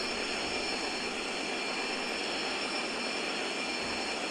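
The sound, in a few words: Boeing 737 takeoff roll on runway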